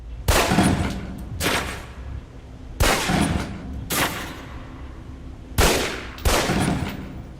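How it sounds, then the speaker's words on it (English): Pistol shots fired down a range at a target in the Alpha Protocol video game, loud and close, coming singly or in quick pairs with short pauses between them, seven cracks in all. "Equip the pistol, then aim down range and take some shots at the target"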